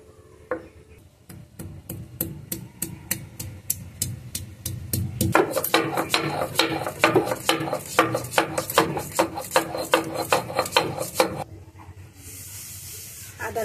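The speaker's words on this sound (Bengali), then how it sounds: "এখন আদা আর রসুনটা বেটে নেব।" Ginger and garlic are ground into paste on a traditional grinding stone, the stone rubbing back and forth in a steady rhythmic scrape of repeated strokes, close and fairly loud, quickening in the middle before stopping.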